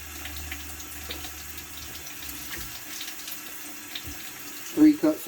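A kitchen tap runs continuously, water pouring into a pot of rice to rinse it for teriyaki, a steady splashing wash with a few soft knocks near the end.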